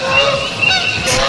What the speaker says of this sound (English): I had to go dig up some bird sounds.